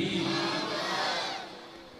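A crowd at a Sufi gathering roars back in unison in reply to a religious slogan, a loud sustained collective shout that fades toward the end.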